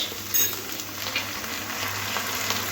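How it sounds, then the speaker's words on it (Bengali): Onion and capsicum frying lightly in oil in a pan for chilli baby corn, a steady close sizzle with soft hissing that holds evenly throughout, with no voices. "পেঁয়াজ আর ক্যাপসিকামটা তেলের মধ্যে একটু হালকা ভেজে নেব"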